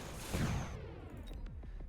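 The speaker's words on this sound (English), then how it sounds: "here we're gonna watch the explosion" An explosion in the Mechabellum strategy game hits as a loud, broad burst at the start, then decays into a rumbling tail scattered with smaller crackling impacts.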